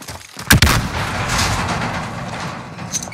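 A stun grenade goes off in Call of Duty Warzone with one sharp, close bang, followed by a rumbling wash of battle noise and scattered distant shots that fade toward the end.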